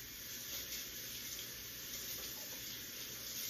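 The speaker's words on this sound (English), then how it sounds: "let me rinse my knife off here" A kitchen tap runs continuously while a knife is rinsed under it during soup preparation. The water is a steady, broadband hiss, fairly faint and unbroken, with no voices.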